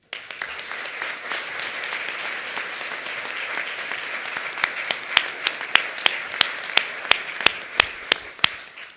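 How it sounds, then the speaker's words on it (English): A crowd at the IACC opening ceremony applauds the sponsors. The dense clapping runs continuously for several seconds, and sharper individual claps stand out toward the end. "Ladies and gentlemen, round of applause, please."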